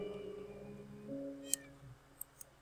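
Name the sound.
cat meowing in Minecraft video game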